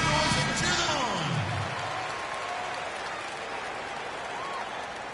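A virtual arena crowd in the basketball video game NBA 2K16 roars and applauds in a dense, steady wash, loudest at the start and then settling to a sustained cheer, with a falling electronic sweep early on.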